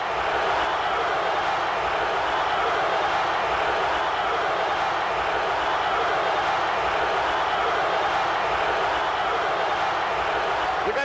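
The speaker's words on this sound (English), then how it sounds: "Capacity crowd chanting Bruno, Bruno, Bruno." A capacity crowd at a pro wrestling event chants steadily for Bruno Sammartino, a dense, continuous roar of many voices that fills the whole stretch without a break.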